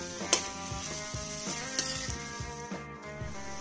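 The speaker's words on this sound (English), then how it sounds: "let it fry for another 4 minutes until the onions become nice and soft" Onions frying with spices in a pan for Indian-style mutton gravy, a steady close sizzle with occasional stirring scrapes and clicks throughout, no voices.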